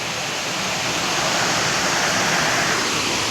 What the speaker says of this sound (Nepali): झरना चाहिँ दामी तरिकाले आछ